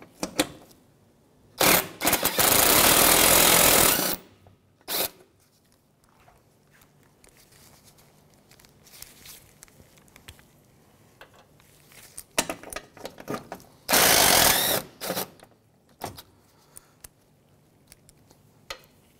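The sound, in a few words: removing 10 mm bumper bolts with power tool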